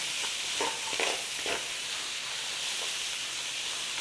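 Chopped celery and carrot frying in a pan for cottage pie, a soft continuous sizzle and hiss with a few brief stirring scrapes early on, fairly quiet and without talk.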